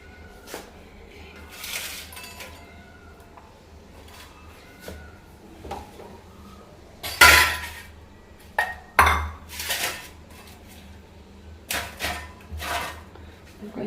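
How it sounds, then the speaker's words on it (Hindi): Dishes and utensils are gathered into a kitchen sink, with scattered clinks and clatters of pots and plates, a few louder crashes, under faint intermittent talk. "जो बर्तन हैं इनको ना सिंक में इकट्ठा कर देती हूँ।"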